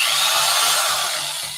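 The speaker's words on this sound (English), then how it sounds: "I see him over here with a drill" A power drill runs continuously into wood during shelf building, a loud steady whine with a faint pulsing rhythm underneath, heard alone without talk.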